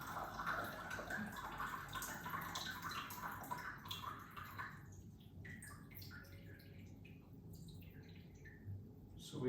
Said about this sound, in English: we're gonna pour out the first infusion of the green tea